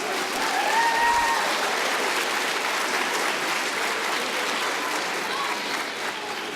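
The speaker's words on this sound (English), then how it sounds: "Guys, if you can give them a big round of applause." An audience at a school Christmas celebration in a theater gives a sustained round of applause for the performing arts center manager and technical director, a broad, even wash of clapping that tapers slightly toward the end.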